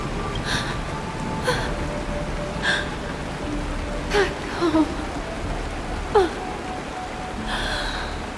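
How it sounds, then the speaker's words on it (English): Steady rain hisses through a scene in the video game Honkai: Star Rail, set in Penacony, a soft even wash of falling drops with a few faint breathy vocal sounds over it. "It is raining!"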